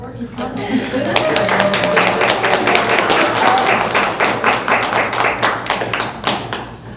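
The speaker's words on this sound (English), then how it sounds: "I feel like we should clap." Attendees at a school district board meeting clap in a small group, with sharp, distinct hand claps ringing out over ongoing talk and murmuring for several seconds.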